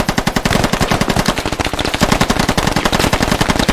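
Rapid automatic gunfire from the video game Squad rings out in a loud, continuous stream of closely spaced shots.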